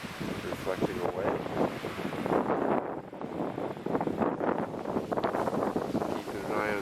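Wind buffets the microphone at a Florida ocean shore at night near high tide, with surf washing steadily underneath in a continuous, rough roar.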